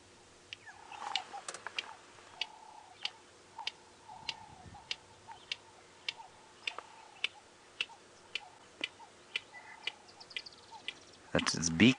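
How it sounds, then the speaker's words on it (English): A red-crested korhaan clicks its beak in a steady series of sharp ticks about every half second, faint and alone in quiet bush at sunset, before a louder burst at the end. "That's its beak clicking that goes before the call"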